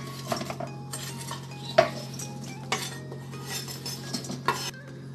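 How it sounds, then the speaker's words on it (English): A knife cuts green peppers on a board amid kitchen clatter: irregular light taps and clinks over a steady background hum, close and moderately quiet. "So now I'm gonna cut the green peppers."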